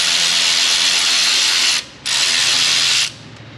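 A ratchet fitted with a Torx bit loosens the brake caliper fasteners on a 2015 VW Jetta. Loud, close, rapid clicking runs in two bursts with a brief pause between them.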